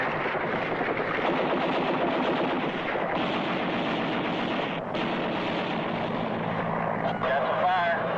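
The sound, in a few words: gunfire in Vietnam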